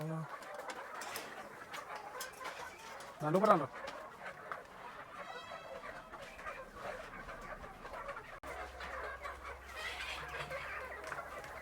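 A flock of about 500 country chickens cluck and coo faintly around a farmyard, with a sharper squawk near the start and people talking quietly in the background.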